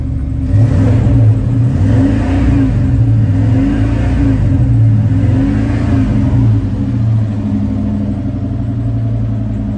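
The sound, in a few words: Chevy engine cranking and revving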